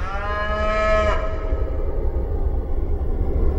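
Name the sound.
free-range cattle mooing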